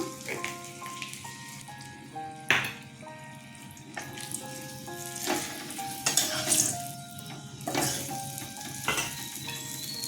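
Fenugreek seeds dropped into hot oil in a pan after frying sorputi fish, giving a steady sizzle with clinks of utensils and a few sharper splatters over the clip.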